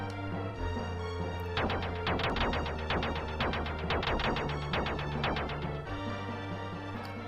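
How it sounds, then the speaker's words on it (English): In the video game Illusion of Gaia, a Morse code signal sounds as a series of rapid, buzzing vibrating pulses in several bursts over a steady background music drone. "Quiet everyone, this vibrating sound. It's Morse code."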